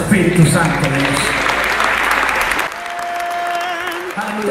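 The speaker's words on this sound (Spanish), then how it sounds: "Dar un aplauso al Espíritu Santo de Dios." Congregation applause at a Christian prayer gathering, broad and loud for over two seconds, then thinning out as music-like tones and speech continue beneath.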